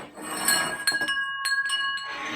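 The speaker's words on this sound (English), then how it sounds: "I currently sell unique handmade wind chimes, kind of like this one here." Several gentle strikes of a handmade lighthouse wind chime ring out, each leaving clear, sustained metallic tones that overlap and slowly fade, heard close up with no talking.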